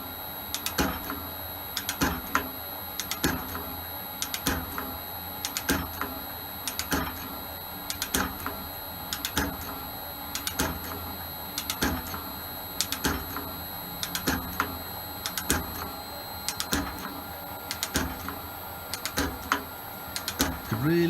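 An Elliott 10M metal shaper makes regular cutting strokes, feeding across half a mil per stroke, each stroke a repeated clack in an even rhythm over a steady machine hum, with occasional talk.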